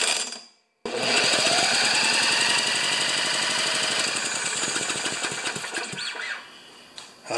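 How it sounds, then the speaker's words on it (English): Electric drill with a 19 millimeter socket turning the blade on a new lawn mower, a loud, steady, rattling mechanical whir close by that starts abruptly, holds for several seconds, then tapers off. "take our electric drill with the 19 millimeter and see if we have any weird sounds"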